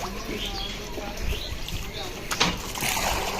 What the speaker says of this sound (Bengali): এই যে মোটা পাইপ দিয়ে জল দেওয়া হচ্ছে এখন ট্যাঙ্কিতে